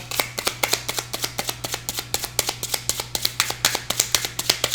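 A deck of tarot cards being shuffled by hand close up, a steady run of quick crisp riffling snaps repeating at an even pace under a low constant hum.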